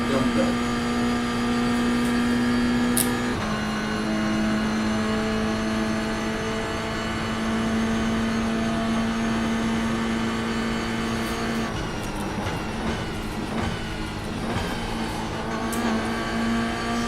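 A Lamborghini GT3 race car engine in the iRacing sim drones loudly and steadily, holding a high rev note before shifting down through several gears with rapid blips, while a person talks over it.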